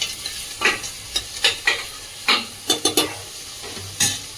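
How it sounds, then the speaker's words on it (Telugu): Green chillies are stirred into a sizzling pan of rajma curry, a spoon scraping through it in a series of short, uneven strokes over steady frying, close and fairly loud with no voices. "తగిన పచ్చిమిర్చి కూడా వేసుకుందాం ఒక నాలుగైదు కలుపుకుందాం"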